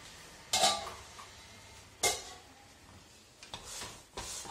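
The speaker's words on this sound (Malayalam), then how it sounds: "നന്നായിട്ടൊന്ന് ഇളക്കി കൊടുക്കുക." A spoon stirring rice flour dough for Kerala rice pathiri in a pan, giving a few separate scraping clatters against the metal with quiet gaps between them.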